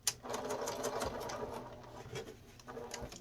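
An electric sewing machine runs steadily, stitching a straight seam along a face mask with an aluminium nose strip, its needle chatter continuous and close, with one brief pause near the end.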